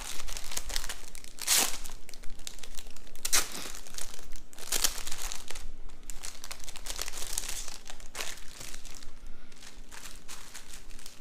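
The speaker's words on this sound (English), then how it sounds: "Let's unwrap it." Crinkly plastic wrapper being pulled off a big hunk of plain baked bread from a bakery, with several sharp crackling bursts over steady rustling, close and alone without talk.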